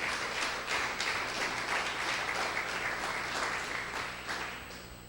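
A church congregation applauds steadily through a service, a dense, even wash of clapping from a crowd that stays loud and then tapers slightly near the end, with no voices on top.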